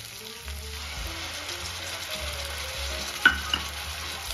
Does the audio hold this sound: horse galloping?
no